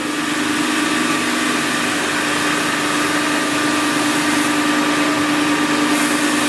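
A surface grinding machine runs with a freshly dressed wheel, giving a steady, loud mechanical drone with a high whine throughout and no speech.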